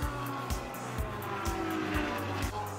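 Race cars at the Kyalami 9 Hour endurance race power uphill after sweeping through the S-bends, a steady loud engine roar with revving surges roughly every half second.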